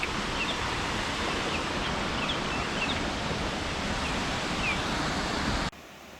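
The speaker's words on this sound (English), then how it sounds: "The waterfalls are created by the heritage-listed Erie River and drop 30 metres down onto the rocky pools below." A 30-metre waterfall on the Aire River in the Otways pours onto rocky pools below, making a loud, steady roar of rushing water that fills the scene and then cuts away sharply just before the end.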